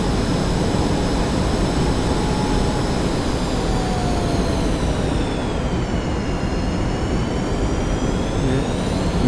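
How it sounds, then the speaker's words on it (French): F-5E jet engines spool up in the DCS flight simulator, a dense steady roar with high whining tones that slide slowly in pitch, loud and continuous with no voices. "Les moteurs mettent un petit peu plus de temps à répondre par rapport à des avions plus modernes."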